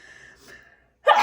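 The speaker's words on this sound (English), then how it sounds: "Uh-oh, I have to sneeze." A single sudden, loud sneeze bursts out near the end after a second of near-quiet, with faint soft sounds before it, indoors while reviewing paint and paper craft kits.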